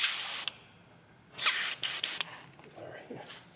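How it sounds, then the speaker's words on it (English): An airbrush sprays out plain water in short bursts, a sharp close hiss that starts and stops several times, with quieter sputtering hisses trailing at the end. "go back in my airbrush. I'll spray all this out."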